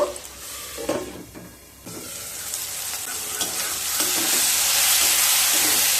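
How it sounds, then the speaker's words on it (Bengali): Onion and small half-ripe tomatoes frying in a pan for a spicy drumstick curry, stirred with a utensil: a few scraping stirs at first, then a continuous, building sizzle close by, with no talk. "পেঁয়াজ আর টমেটো দিয়ে খুব ভালোভাবে ভেজে নেব।"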